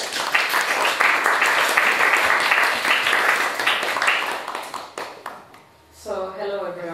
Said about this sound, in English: join me in a very warm round of applause for our speakers